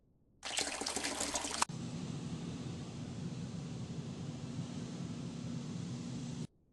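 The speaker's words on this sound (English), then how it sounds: "Water was poured over them," Water poured over glowing, fire-heated stones in a sealed Maya steam room sends up a loud, abrupt burst of hissing that settles into a steady, broad sizzle of steam lasting several seconds before cutting off.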